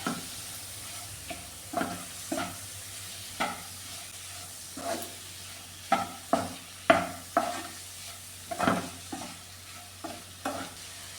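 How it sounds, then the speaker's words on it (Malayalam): Tuna fish mixture being stirred and fried in a pan, with repeated scraping strokes of a spoon at a steady, irregular rhythm over a faint continuous sizzle, close and moderately loud. "ഇതെല്ലാം കൂടെ നന്നായിട്ടൊന്ന് മിക്സ് ചെയ്ത് കൊടുക്കാം"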